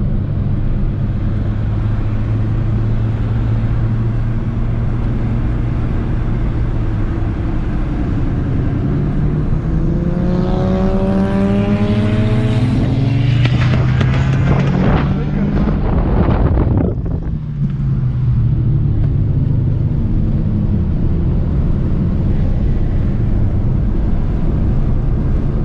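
Many cars race at the Piracicaba racetrack. Engine notes rise and fall as several cars accelerate and roar past close by in overlapping sweeps, under steady wind buffeting on the microphone.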